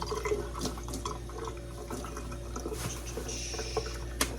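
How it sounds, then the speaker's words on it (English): Tap water running steadily while a DIY band shirt is rinsed off, a continuous splashing wash with small clinks and knocks at close range. "Gonna go ahead and rinse this off as best as I can."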